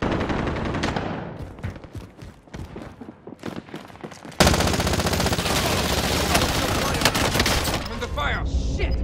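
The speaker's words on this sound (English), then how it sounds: "I'm under fire." Gunfire in a battle royale video game: first scattered single shots and short bursts, then a sudden, loud, continuous stream of rapid automatic fire up close that carries on to the end.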